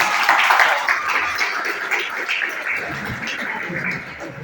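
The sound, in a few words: applause for a student called to the front of a class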